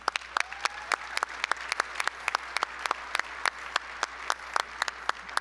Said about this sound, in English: give all of our 2022 award winners a round of applause